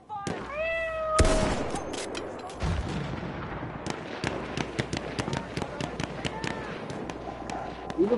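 A man imitates a cat's meow with a short, wavering, high-pitched voice, followed by sharp rapid bangs of gunfire and explosions from a Battlefield 1 match, loud and close, with occasional talking.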